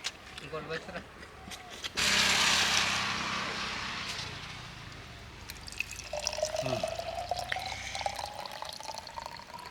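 Watermelon juice trickling and splashing from a tap fitted into a watermelon dispenser; a short burst of rushing flow gives way to dripping and small clicks of the tap, close and moderately loud.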